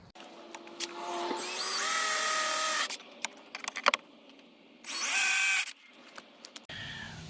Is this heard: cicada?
no